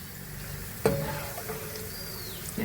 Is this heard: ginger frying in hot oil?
yes